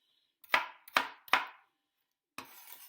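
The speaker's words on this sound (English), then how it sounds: "So we want reasonably small dicing" A knife dices food for soup on a cutting board, giving three close, crisp chops at an even pace, then a pause and one final softer cut that trails off with a faint scrape.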